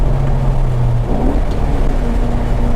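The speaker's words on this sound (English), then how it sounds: "Rev match." A 2001 Mustang GT with a manual gearbox gives a quick engine blip during a rev-matched downshift, its droning tone briefly rising over steady road noise inside the cabin.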